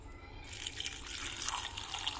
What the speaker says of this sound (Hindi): ऊपर से डाल देंगे अब हम इसमें पानी